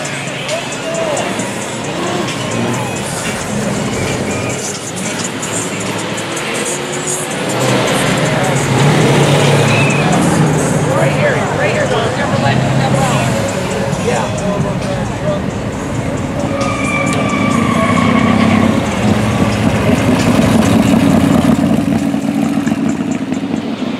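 Cars cruise and rev at the Pontiac Dream Cruise in 2015, a continuous rumble of engines that grows louder midway, with people talking over the noise throughout.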